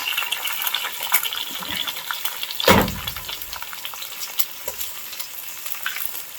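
Eggs and onion fry with rice in a hot pan, a steady crackling sizzle running throughout, with one louder burst of sizzle and stirring near the middle.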